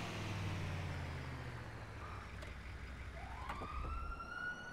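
Police car sirens wail in a GTA video game, rising and falling tones at moderate distance over a low engine drone, with no talk.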